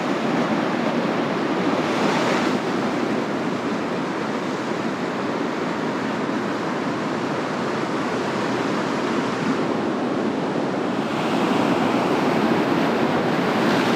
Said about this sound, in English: a few big waves coming in